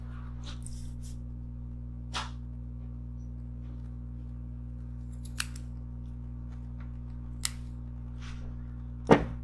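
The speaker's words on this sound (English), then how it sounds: "Take my scissors. And from the edge of the deck, I will cut it on an angle." Scissors make a few sharp, isolated snips through a metal vape mesh coil strip at the edge of a build deck. The cuts are spaced several seconds apart over a quiet, steady hum.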